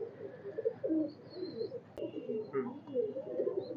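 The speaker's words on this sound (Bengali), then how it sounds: "কবুতরগুলো মারাত্মক ছটফটে টাইপের কবুতর" Restless teddy pigeons coo in a loft, low throaty warbles repeating close by, with a sharp click midway and faint higher chirps.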